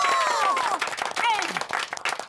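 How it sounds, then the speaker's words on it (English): Short burst of applause and cheering in an Alphablocks children's spelling cartoon, mixed with bright sliding tones and voices over the top. "A round of applause for"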